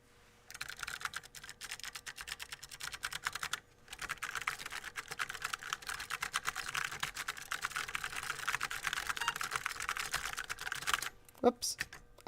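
Fast, continuous typing on an Apple //c computer keyboard under repair, dense key clacks with a brief pause early on and a short break near the end.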